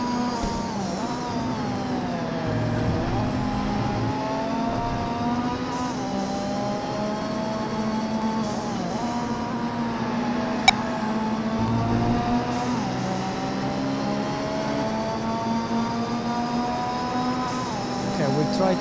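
Racing car engines from the PlayStation 2 game TIR Total Immersion Racing drone steadily, their pitch repeatedly climbing and dropping with gear changes, with a single sharp click partway through.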